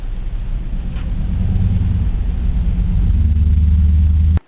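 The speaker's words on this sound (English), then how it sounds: "just move my car out of the way so these people can get through" A police car engine idles and hums steadily at close range, with a low rumble that swells slightly as the car is moved, then cuts off abruptly at the end.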